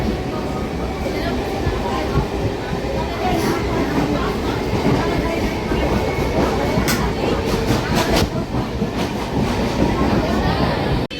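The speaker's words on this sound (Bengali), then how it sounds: "ট্রেনে উঠে পড়লাম ট্রেন ছেড়ে দিল" A local passenger train pulls out of Bagula station in West Bengal, its steady rumble and rattling wheels filling the carriage without a break, with passenger voices faintly mixed in.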